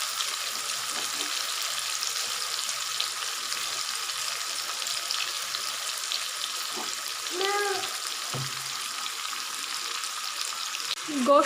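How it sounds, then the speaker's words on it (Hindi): Mutton pieces frying in a spiced masala for deghi-style palak gosht, a steady close sizzle throughout with occasional stirring scrapes and a brief clatter near the end. "गोश्त को हम पहले अच्छी तरह से भून लेंगे"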